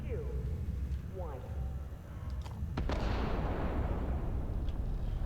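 In the Starfield video game, a detonation on Mars at the Cydonia central hub goes off as a sharp blast followed by a broad, rumbling roar that swells and lingers, loud and close, with scattered pops before it.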